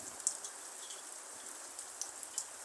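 Rain falls over a village as a soft, even hiss, with occasional sharp droplet taps standing out nearby; the whole scene is fairly quiet.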